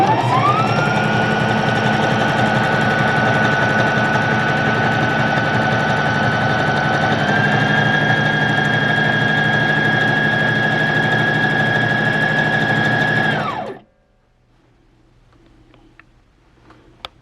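A Brother sewing machine stitches steadily at stitch width 4 with a constant whirring hum and a high whine, running loud and continuously for about thirteen seconds before stopping abruptly into near silence.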